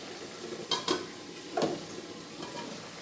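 Broad bean curry with chili powder is stirred in a pan, giving a few soft scraping strokes against a quiet low sizzle, close and fairly faint.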